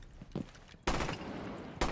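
Gunfire in Rainbow Six Siege: a brief scatter of small shots, then a loud burst of rapid automatic fire and a final sharp shot, close and punchy, with no talk.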